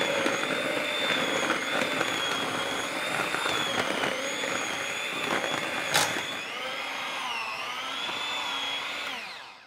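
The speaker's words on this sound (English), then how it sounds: "I am going to use my blender." A kitchen blender purees boiled potatoes into mash, its motor whining loud and steady for about nine seconds, with the pitch dipping and wavering slightly as the load shifts before it stops.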